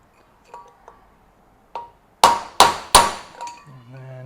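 Hammer strikes on the front wheel bearing race of a 1976 BMW 2002: a few soft taps, then three loud, sharp metallic blows in quick succession, close by, with a faint lingering ring afterward.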